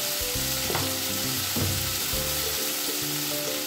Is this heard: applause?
no